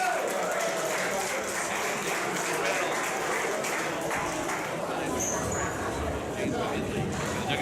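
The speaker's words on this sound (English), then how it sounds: "And listen to the applause. They got a nice applause." A crowd applauds steadily at an amateur boxing show, a dense wash of clapping that lasts throughout, with a commentator talking over it.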